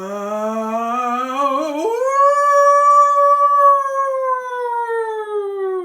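A person imitates a wolf howl while reading a children's story aloud: one long, loud, sustained tonal howl that rises in pitch partway through, holds steady and tapers at the end, with no other sounds.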